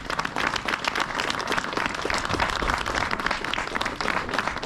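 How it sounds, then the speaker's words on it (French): An audience at the inauguration of the expanded fire and rescue station in Saint-André-le applauds the architect with steady, dense clapping that fills the hall and holds at an even level throughout. "j'aimerais bien qu'on applaudisse pour le résultat final"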